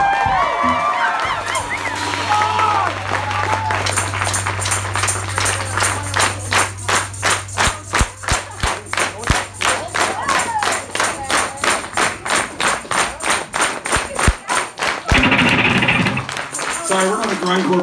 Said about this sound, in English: Need y'all's help clapping.